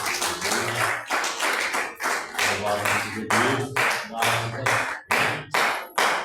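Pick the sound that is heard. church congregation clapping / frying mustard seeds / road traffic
church congregation clapping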